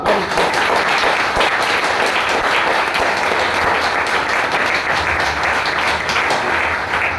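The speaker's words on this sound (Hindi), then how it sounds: "हम सभी आभार व्यक्त करेंगे जोरदार ताली के साथ।" Loud, sustained applause from a large audience at a Hindi motivational talk, steady dense clapping filling the whole seven seconds with no break.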